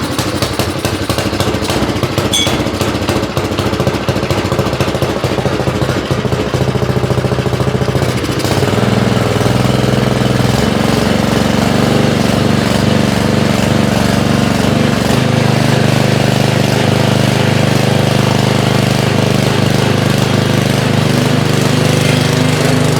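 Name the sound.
small carbureted engine pull-started and running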